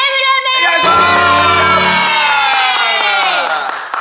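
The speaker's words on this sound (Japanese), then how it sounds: "カメラの後ろから歓声上がりましたね。" A small group off-camera at an indoor game-room shoot cheers and whoops loudly and close by, high voices rising together in a sustained shout that slowly fades over a few seconds.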